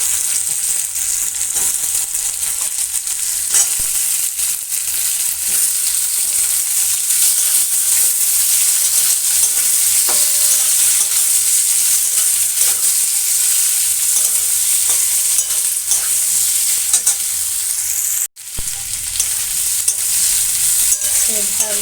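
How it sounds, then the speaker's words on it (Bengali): Potatoes and onions fry in a pan for a winter vegetable curry, a steady close sizzle with continuous scraping and stirring throughout, briefly cut off near the end. "এর মধ্যে আমি আলুগুলো দিয়ে ভালো করে ভেজে নেব। আর সবজিগুলোতে ভেজে রেখেছি, আলুগুলো পেঁয়াজগুলো দিয়ে ভালো করে নাড়াচাড়া করব।"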